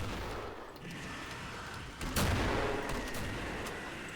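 Grenade combo blasts and gunfire in the video game Killing Floor: a continuous rattle of game action, then a sudden loud explosive boom about halfway through that rings out into a sustained roar, with no talk.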